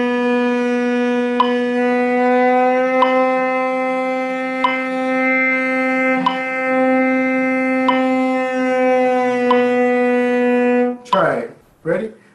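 A cello sustains one bowed note with a rich harmonic stack for about eleven seconds, with faint bow-change ticks, then breaks off abruptly. Any slow slurred glide up toward C is barely noticeable before the note ends.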